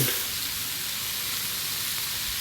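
Pork stir-frying in a hot wok after being seasoned with fish sauce and sugar for a Thai khua kling dish, giving a loud, steady, close-up sizzle that holds unbroken from start to finish with no voices.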